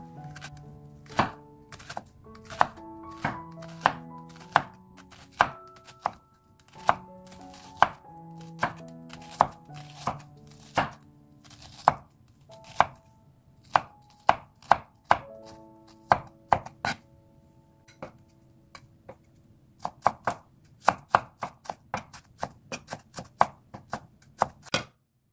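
A knife chops through cabbage, onions and carrots on a cutting board, steady close knocks coming in runs of quick strokes with short pauses between them, alone without any talk.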